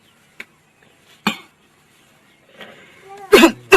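A few sharp, separate coughs break an otherwise quiet room, the last one loudest and rough, with a little faint clatter in between.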